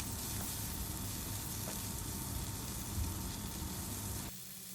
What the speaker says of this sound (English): we will add now around 1 tablespoon of broken cashews and 1 tablespoon of melon seeds or magaj. We will saute this for another few seconds